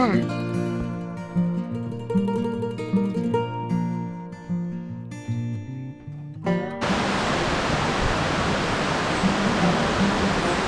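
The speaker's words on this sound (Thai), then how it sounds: "และนี่ก็คือน้ำตกป่าหวายนะคะ" Broad, steady roar of Pa Wai waterfall near Tak, Thailand, rushing water filling the clip's second half at close range, after a first stretch dominated by tonal music.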